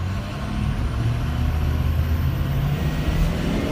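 A truck engine with a low-pressure oil fault rumbles steadily while driving, a loud continuous low drone with road noise and no breaks.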